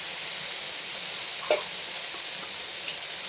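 Curry in a pan simmers with chili powder just stirred in, giving a steady, soft sizzle that hisses evenly throughout, broken by a brief clink near the middle.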